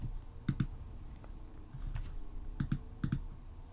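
Computer mouse clicks while choosing letters in Scratch: crisp clicks in close pairs, three double clicks spread over a few seconds, close and quiet, with no talking.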